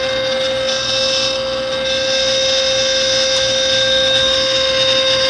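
A small solar-powered water pump runs continuously to feed a homemade bucket sluice and poop tube for fine gold, giving a steady, high-pitched motor whine with a constant tonal hum and no talk.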